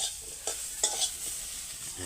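Faint, steady sizzling of potatoes frying in oil in a pot, with a few soft crackles and pops over about two seconds.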